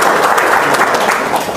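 Audience applause after a speaker urges clapping, a dense and steady wash of many hands held at an even level throughout the short stretch.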